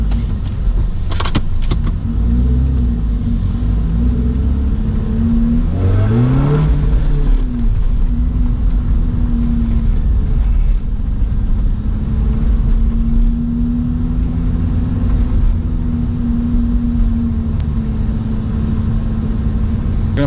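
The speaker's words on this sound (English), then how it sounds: "Let's give it a rev." Lotus Elise Sprint 220 sports car engine heard from inside the cabin, idling with a steady low drone, then a brief sharp rev rising and falling in pitch, followed by idle again, with some rattling and jangling noises near the start.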